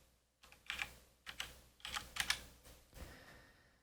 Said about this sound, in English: you can actually type this in here